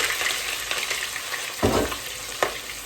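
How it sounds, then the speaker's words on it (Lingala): Onions fry in hot oil, giving a continuous close sizzle with a couple of louder crackling bursts. "na tie matungulu nanga na kati ya mafuta"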